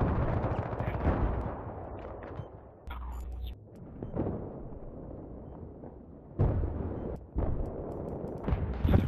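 Bursts of video game gunfire crackle in uneven clusters, with sharp shots and short volleys separated by quieter gaps, moderately loud and close.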